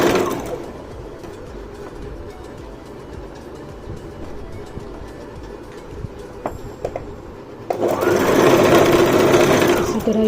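A Brother GS1700 sewing machine stitches cloth with a steady, fast mechanical whir and clatter, close by, ending in a louder burst of running.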